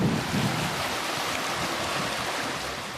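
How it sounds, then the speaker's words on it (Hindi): The swollen Kosi river surges against its eroding bank near Saharsa, a loud, steady roar of rushing water and churning waves with a constant wind-like hiss. "उफनती कोसी सनसनाती हुई कटाव करती आगे बढ़ने लगी"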